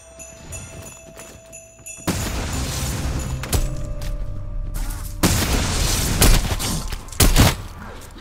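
Shotgun blasts in Call of Duty Cold War Zombies, with a pack-a-punched shotgun fired in loud, booming bursts separated by short gaps, over constant dense game noise.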